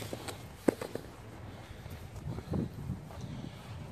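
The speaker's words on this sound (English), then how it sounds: "Oh boy, it's windy," Gusty wind blows across an outdoor microphone after heavy rain, a steady low rumble with a few sharp thumps and rustles. No voices are heard.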